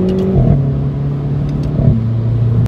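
A Renault Clio RS18 with an Akrapovič exhaust drives under load. The engine drones loudly and steadily, and its pitch drops at each gear shift, with faint pops from the exhaust.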